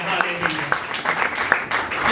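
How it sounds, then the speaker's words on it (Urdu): A church congregation claps loudly for a couple of seconds, with sharp hand-clap bursts and voices carrying over the steady applause. "آئے زوردار تالیاں بجائیں گے اس بات کے لیے"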